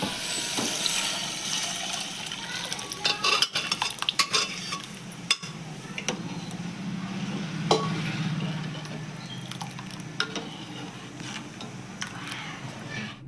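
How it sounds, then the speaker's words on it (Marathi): Dal is poured onto cooked spices in a pan and stirred, with wet scraping and clattering bursts, a soft bubbling sizzle beneath, and a few sharp knocks of a utensil against the pan. "डाळ टाकूया"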